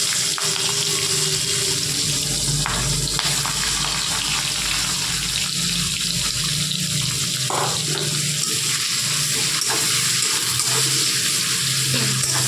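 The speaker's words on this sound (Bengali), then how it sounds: "এবার ওই একই তেলের মধ্যে দিয়ে দিচ্ছি কিছুটা 5 ফোড়ন, দিয়ে দিচ্ছি চেরা কাঁচা লঙ্কা দুটো, দিচ্ছি চেরা পেঁয়াজটা" Panch phoron, two slit green chillies and sliced onion frying in hot oil for a rupchanda fish curry, a loud, continuous close sizzle with occasional stirring scrapes.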